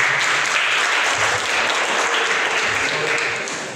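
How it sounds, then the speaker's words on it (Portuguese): Steady, dense applause from a church congregation fills the space, a continuous wash of many hands clapping without a break. "Aplaude."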